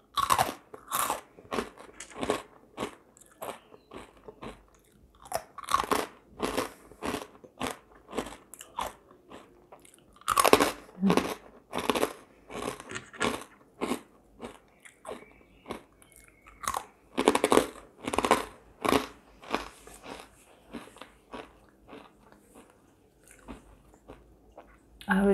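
Someone crunches cucumber with tartar sauce, loud and close: repeated crisp, crackling bites and chewing in an uneven rhythm, with brief quiet gaps between them.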